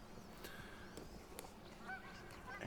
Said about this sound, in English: the audio distraction of the geese migration, apparently